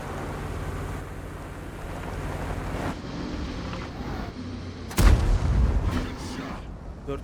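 A tank cannon in World of Tanks fires a high-explosive shell, a single loud, sharp boom partway through that leaves a heavy rumbling tail, set against engine and ambient noise from the battle.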